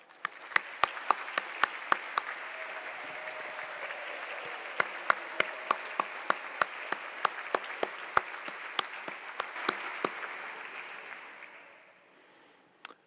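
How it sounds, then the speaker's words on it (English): An audience applauds steadily for several seconds, with a few sharper individual claps standing out, before the clapping tapers off and fades. "Let's give these folks a round of applause."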